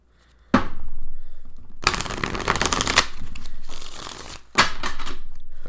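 Tarot cards are shuffled in several bursts of dense riffling and flapping, separated by short pauses, close up and fairly loud.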